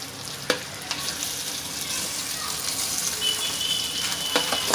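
Boiled, finely chopped potato pieces go into hot oil with turmeric and curry leaves and fry with a steady, bright sizzle. A few sharp clatters of tipping and stirring cut through the sound close by.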